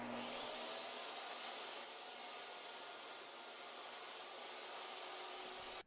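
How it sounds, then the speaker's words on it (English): A table saw with its wooden board on a crosscut sled roars with a steady, loud, broadband whine while cutting, unbroken throughout and with no talking. "This allows me to break my board down a bit so it's easier to work with."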